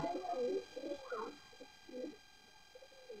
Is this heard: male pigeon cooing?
yes